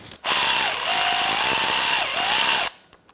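A power drill or impact tool runs steadily for about two and a half seconds, loud and close, removing the last bolt on a 2002–2006 Honda CR-V driveshaft; its whine dips briefly twice before cutting off, with a few small clicks after.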